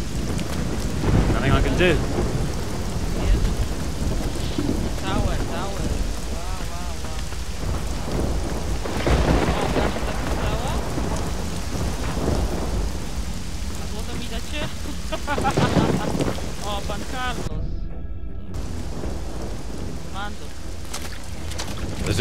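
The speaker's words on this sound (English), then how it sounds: "In this storm?" Heavy rain pours steadily in a Risen 2 game thunderstorm at sea, with rolling thunder swelling over it and someone speaking briefly in the middle.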